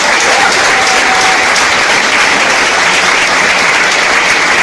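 Church congregation applauding loudly and steadily, a dense continuous wash of many hands clapping together throughout, close and full.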